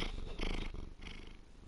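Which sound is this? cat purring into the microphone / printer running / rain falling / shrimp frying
cat purring into the microphone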